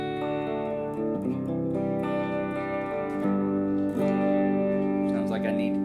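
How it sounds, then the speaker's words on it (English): Clean-toned electric guitar through a Positive Grid Spark amp, with ringing chords and light effects heard up close and loud, with no voices over the playing. "Very nice, clean tones"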